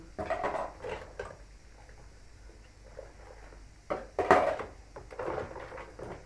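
Dishes and cutlery clink and knock in short bursts while water runs faintly in the background, with a louder clatter of pans midway.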